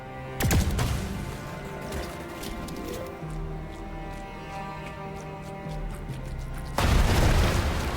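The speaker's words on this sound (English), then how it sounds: "if I shoot the explodey things, they drop, but they don't immediately explode" Explosive objects in the video game The Gunk go off with a sharp boom near the start and another heavy burst near the end, with a low droning background between.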